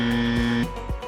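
A quiz contestant's buzzer at a school quiz semi-final gives one loud, steady electronic buzz lasting about half a second, followed by a couple of soft thuds.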